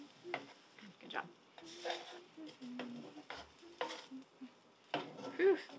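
Freeze-dried onions being stirred as they sauté in butter in a pan, with soft scraping and quiet sizzling heard faintly under a person talking.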